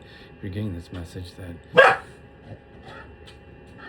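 A pet dog gives one sharp, loud bark that cuts in suddenly over a person speaking.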